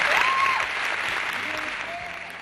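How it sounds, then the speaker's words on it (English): Students at Glade Central High School clap together in a loud, sustained burst of applause that slowly thins out, with scattered voices and a few whoops mixed in. "Give yourselves a big hand."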